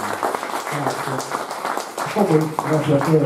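An audience clapping at a book presentation, a continuous patter of applause beneath someone speaking and voices starting to sing.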